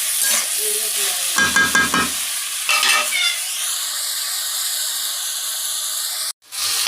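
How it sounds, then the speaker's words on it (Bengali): Small fish chorchori with tomato and potato is stir-fried in a pan, sizzling loudly with scraping stirs and bursts of hissing, then a steadier sizzle with a faint tonal whine, ending in a sudden cutoff. "তো এই যে আমার এটা আমি কষাই রান্না করছি, একটা টমেটো দিলাম"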